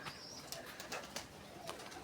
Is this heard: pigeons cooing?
yes